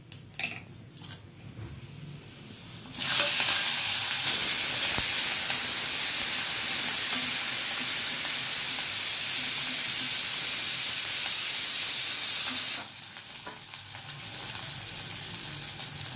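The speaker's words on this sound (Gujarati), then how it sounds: "આ સંભારાનો વઘાર આવી ગયો છે. હવે આ હિંગ નાખી." Asafoetida and spices hit hot oil for a Gujarati carrot-chili sambharo tempering: a sudden loud sizzle that hisses steadily for about ten seconds, then drops away to quieter background crackling.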